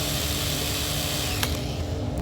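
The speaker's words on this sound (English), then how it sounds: "So I will drill this right hand edge of it here." A power drill bores a hole into a wooden sash window bead, a loud steady whine for about a second and a half before winding down.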